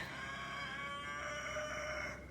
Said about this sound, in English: the rooster sounds very happy about it.